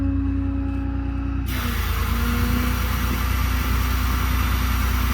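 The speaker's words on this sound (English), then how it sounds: "Set these down. Outriggers are in place." Hydraulic outriggers lowering on a 2017 Ram 5500 4x4 Cummins diesel IMT mechanics truck with the PTO engaged, a loud, steady engine and hydraulic drone with a pump whine that shifts in pitch, close and continuous.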